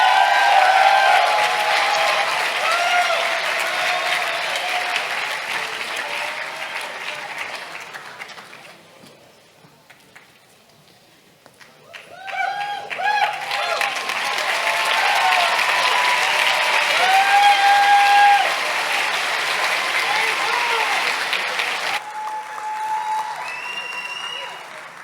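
A crowd at a Sandy High School graduation ceremony applauds and cheers loudly for the graduating class, with voices mixed in; the clapping fades to near quiet around the middle, then swells back to full strength and continues steadily.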